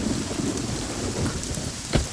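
Heavy rain pours steadily at a house during a night visit, a dense broadband hiss with a low rumble of thunder near the end, no voices.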